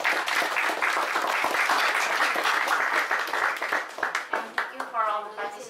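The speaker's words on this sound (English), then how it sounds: "please give them a round of applause" Dense, loud applause from an audience at a panel discussion, steady for about four seconds before breaking into scattered claps as it fades, with a voice briefly audible near the end.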